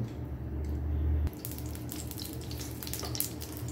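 Fenugreek and nigella seeds sizzle in mustard oil in a pan, a soft, steady frying crackle heard close but faint, with no talking.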